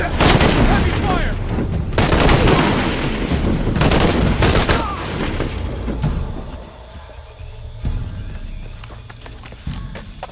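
Heavy gunfire in the video game Shadow of the Tomb Raider sounds in loud bursts of rapid shots early on, then eases into quieter scattered reports and background movement. Voices speak over parts of it.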